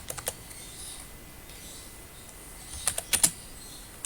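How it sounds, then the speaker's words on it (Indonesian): Typing on a computer keyboard in a lecture setting: a few quick key clicks at the start, a quiet stretch, then a short burst of crisp keystrokes near the end, alone without talk. "Saya ngetik di sini aja deh."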